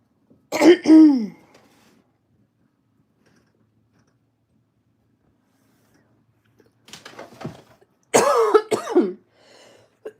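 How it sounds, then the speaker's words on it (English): A person who has pneumonia and is sitting in a chilly room clears their throat and coughs in three short, close bursts: one near the start, then two more close together after a long quiet gap. "as it gets later, it gets colder, and that's why I cough"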